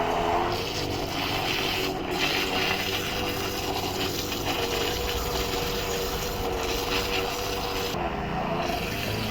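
An electric butter churning machine runs steadily, separating butter from curd, giving a continuous close-up rubbing, sloshing mechanical drone with no speech over it.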